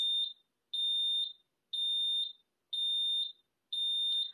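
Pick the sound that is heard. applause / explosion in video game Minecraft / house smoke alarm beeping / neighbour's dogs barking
house smoke alarm beeping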